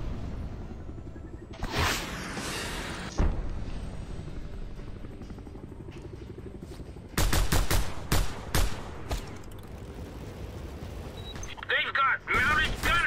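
Mounted machine gun fire in Just Cause 2 rips out in rapid bursts of shots over a steady helicopter drone, with quieter pops earlier and people talking throughout.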